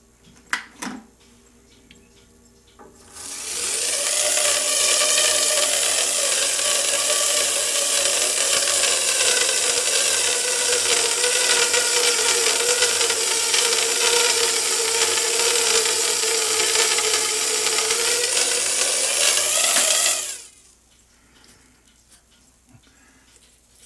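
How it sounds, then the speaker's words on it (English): A slow-turning wood lathe runs steadily for about seventeen seconds while a pizza cutter is being made, a sustained close whir with a strong tonal hum, starting and stopping abruptly with quiet workshop sounds before and after. "this is where it's nice to have a lathe that will turn really slow"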